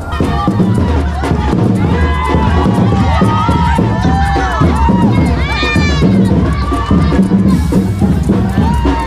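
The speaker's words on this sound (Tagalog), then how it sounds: "Walang katapusan na hiyawan." At a town fiesta in Tanza, a large, loud crowd shouts and cheers nonstop, with shrill youthful screams rising above the dense, continuous roar of voices.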